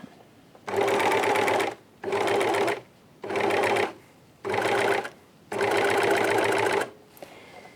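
Serger overlocker sewing a 6 mm seam allowance and trimming fabric, whirring loudly in five steady runs of one to two seconds separated by short pauses, close up.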